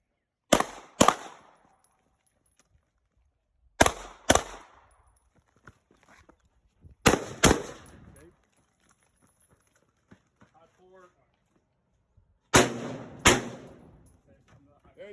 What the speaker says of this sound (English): Carbine, transition to pistol, 2 rounds.